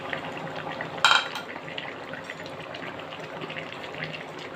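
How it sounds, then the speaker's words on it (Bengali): Pre-fried fish pieces drop into a pan of mixed vegetables with one brief clattering splash, followed by a low, steady simmer. "দিয়ে দিব মাছ, ভেজে রাখা মাছগুলো দিয়ে দিলাম।"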